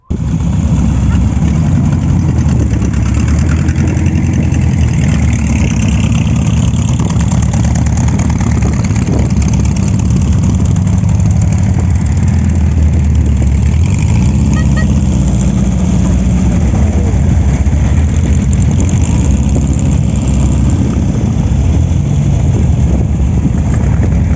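A loud Volkswagen engine fitted to a custom vehicle idles continuously nearby at a motoring show, a steady low rumble with a rough, throbbing texture throughout.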